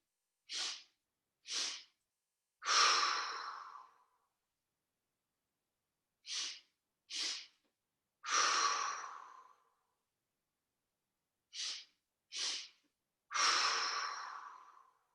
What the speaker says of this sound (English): And now I'll just breathe.